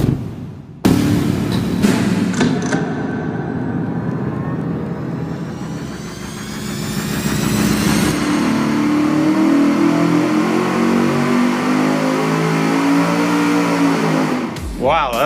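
Engine fitted with a $26.99 Walker Turbo muffler on a dyno test stand runs up loud and steady for about fourteen seconds, building in pitch midway before cutting off sharply at the end.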